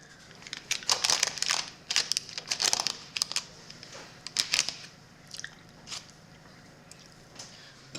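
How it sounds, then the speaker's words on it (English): Soft squishing, crinkling and pressing as cake batter mix is spread and mashed into a crust over parchment paper, coming in close bursts with brief pauses between them. "take this cake batter mix and spread it and mash it because it's gonna be the crust"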